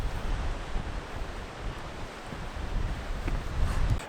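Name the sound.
wind at the coast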